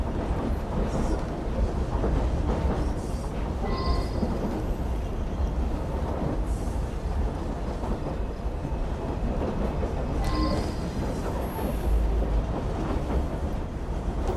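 A moving train in the video game Assassin's Creed Syndicate gives a steady, loud rumble with rattling and clattering throughout, with no voices.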